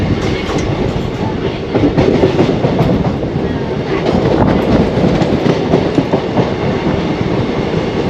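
A train on the way to Mantralayam rolls along slowly, with a steady close rumble and soft clickety-clack of wheels over the rails heard from inside a carriage.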